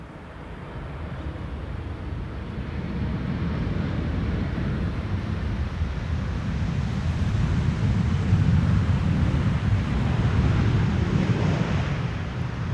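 A KLM airliner lands at Schiphol on runway 18R with idle reverse thrust, a steady broad roar of jet noise and rushing air that builds slightly and holds for over ten seconds.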